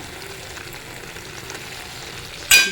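A vegetable curry simmers with freshly added oil, a low, even sizzle close by, ending in a sudden loud burst of spatter as it is stirred.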